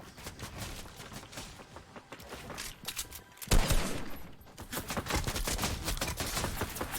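Rapid bursts of gunfire in the Fortnite video game, crackling in dense clusters with a sharp louder volley midway, then sustained shooting continuing steadily to the end.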